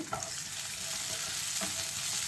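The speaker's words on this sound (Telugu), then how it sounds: "ఇదైతే ఆనియన్స్ మనకు వేగితాయి" Chopped onions fry in a pan for an okra masala gravy curry, giving a steady, close sizzle with a few stirring scrapes and no talking.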